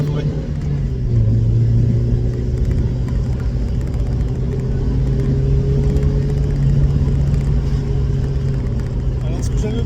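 A Mazda Miata engine fitted with a sport exhaust silencer drones and rumbles steadily while driving, with a brief rise in pitch early on. The engine note stays continuous and close, with voices talking over it.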